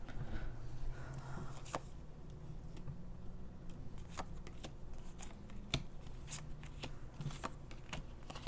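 A deck of cards being pulled out and handled at close range: soft, quiet shuffles, flicks and snaps come at irregular intervals over a low background hum, with no speech.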